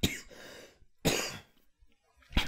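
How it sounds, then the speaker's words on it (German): Three short, dry coughs from the game Commander Keen, spaced about a second apart. Each is a sharp, close burst in otherwise quiet surroundings. "Einmal gehustet."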